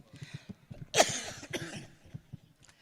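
A single sharp cough rises out of quiet, soft talk that continues around it, close to the microphone, during a speaker's address at a large devotional gathering.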